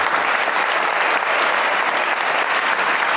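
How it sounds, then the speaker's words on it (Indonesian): Loud, dense applause from a seminar audience at a Quran memorization school, a continuous wash of many hands clapping evenly without pause or talk. "Dan tepuk tangan untuk kita semuanya hari ini"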